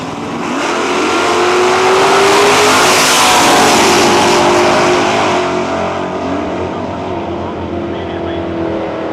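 Drag race cars launch at a nostalgia drag racing event in Cayuga, Ontario, including a 1968 GTX with a stroked 440. The engines roar loudly as they accelerate hard, swelling and then fading as the cars pull away, with announcer talk over them.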